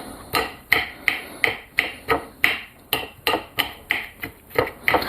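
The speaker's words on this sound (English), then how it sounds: "I'm going to chop this up and spread it out a little more." A knife chops kimchi on a cutting board in a steady rhythm of sharp, close knocks, about a dozen evenly spaced strikes with no talking.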